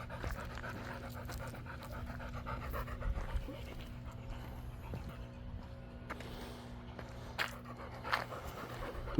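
Old dog Mocha pants in rhythmic breaths close by, steady through the stretch, with people talking in the background and a low constant hum underneath.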